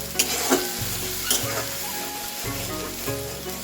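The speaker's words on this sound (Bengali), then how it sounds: "এই মশলাটাকে আগে পুরো ভাজা ভাজা করে নেব" Onion, chilli, ginger and garlic masala paste fries in a pan with a steady sizzle while a spoon scrapes and stirs it in a few distinct strokes, close and fairly loud, with no talking.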